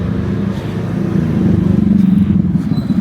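A motorcycle engine rumbles past up close on a street in Cagayan de Oro, Philippines, during New Year's Eve, a loud steady low drone that swells slightly as it goes by.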